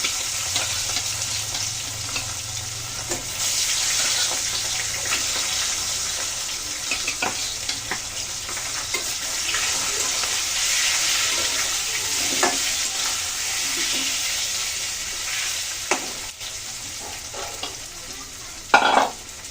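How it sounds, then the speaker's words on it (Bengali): Tengra fish fry in hot oil seasoned with turmeric, giving a loud, steady sizzle with crackling spits and pops throughout and a sharper burst near the end. "তেল তো গরম হয়ে গেছে, আমি মাছগুলো এখন ভেজে নেব।"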